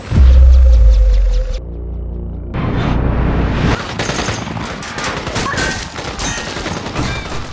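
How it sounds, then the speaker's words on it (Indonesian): Helicopter gunfire strafing people on a rooftop in the action film No Escape: loud, dense bursts of shots and crashing impacts over a low rumble, continuous for several seconds. "orang-orang di atap terkena tembakan dari helikopter itu"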